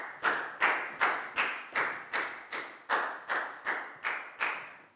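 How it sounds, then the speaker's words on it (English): Eleven or so sharp, evenly spaced claps ring out in a classroom, loud and close, in a steady rhythm like a class clapping together in unison for a student. "Big round of applause for Net"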